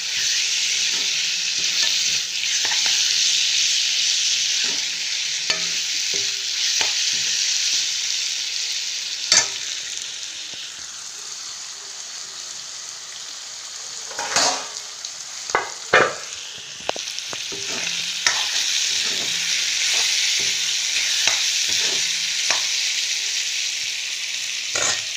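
Marinated broiler chicken, already coated in salt, turmeric and spices, fries steadily in a pan with a continuous sizzle, broken by stirring scrapes and knocks. No one speaks.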